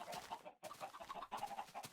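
Chickens in the video game Minecraft give faint, low clucking calls in a short burst with a brief gap, with no speech.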